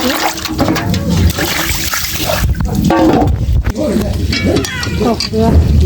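Water running and splashing continuously while fish are washed by hand, close and fairly loud, with a person talking over it.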